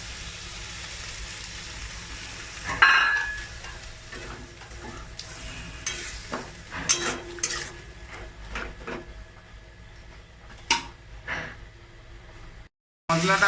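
Ground spices with chilli and turmeric powder and a splash of water fry in a pan, a low sizzle under repeated scraping and clattering of a spoon, with sharper knocks scattered throughout and a brief silence near the end.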